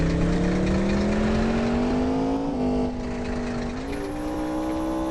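A car drives in a Grand Theft Auto video game, its engine a continuous, close droning hum whose pitch rises gradually and dips briefly as it revs along.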